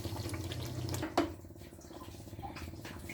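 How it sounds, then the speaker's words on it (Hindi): Water from a rinsed-out yogurt bowl pours into a cooking pot while making chicken degi kofte, a close, steady splashing and trickling with one sharper splash partway through. "दही वाला जो बॉल था मैंने वही साफ़ करके पानी इसमें डाल दिया।"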